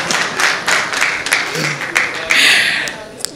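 A crowd applauds at a church gathering, bursts of clapping that swell and fade in uneven waves, close and fairly loud, with voices talking over parts of it.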